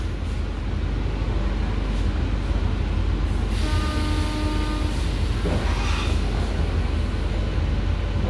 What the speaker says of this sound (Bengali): খড়দহ থেকে ট্রেন ছেড়ে চলে গেল।